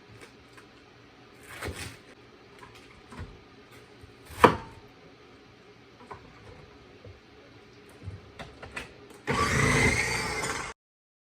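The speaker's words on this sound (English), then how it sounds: "So we're just gonna chop this and put this directly into the food processor." Food processor chopping vegetables for preserving: scattered knocks and clatter of prep, then a loud, steady motor whir bursting on near the end and running for about a second before stopping.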